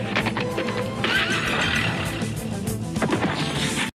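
A cartoon horse whinnies loudly over a busy, crashing action scene with galloping hooves, the neigh rising midway and the clatter continuing throughout.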